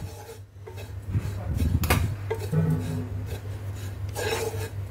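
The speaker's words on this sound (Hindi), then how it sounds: "नारियल के बुरादे को हमने अच्छे से भून लिया है।" Desiccated coconut roasting in a pan over a low to medium flame, a spatula scraping and rasping dryly against the metal in a continuous rough shuffle, with a few louder strokes along the way.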